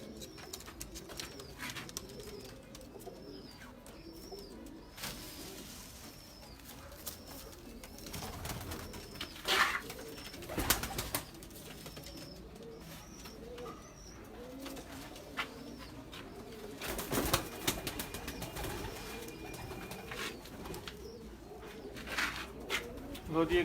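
Pigeons coo softly and repeatedly in a loft, low rhythmic calls running throughout, with scattered knocks and bumps and a few distant voices in the background.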